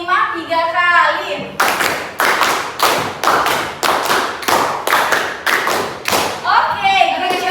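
A class of students claps a rhythmic group pattern of five claps repeated three times, a long run of loud, evenly spaced bursts of hands, with children's voices before and after.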